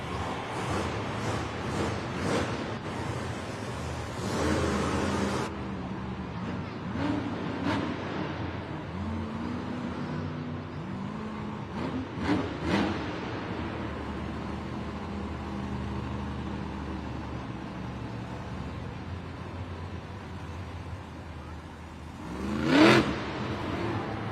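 A monster truck engine at a Monster Jam event in Singapore revs in several bursts early on, then settles into a steady rumble under crowd and arena noise, with one sharp loud surge near the end.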